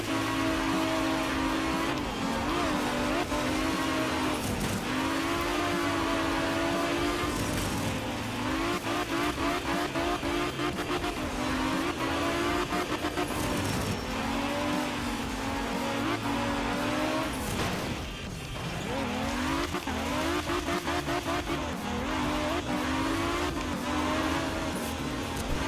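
A rally car in the Art of Rally video game, driven at speed on a dry gravel stage in Sardinia. The engine drones and revs continuously, rising and dropping through gear changes, with tires skidding on loose surface.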